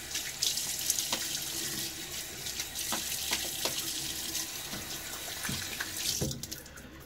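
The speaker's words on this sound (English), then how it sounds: "Now, a quick rinse." Tap water runs steadily into a bathroom sink during a wet shave, a close, even splashing stream with a few small knocks and clinks as the razor is rinsed under it.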